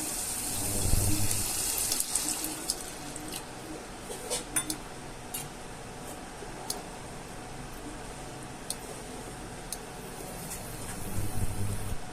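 Water poured into a pan of bhindi posto, okra in poppy seed paste, while it cooks: a faint splashing trickle with light clinks and ticks, brief louder bursts at the start and end, no speech.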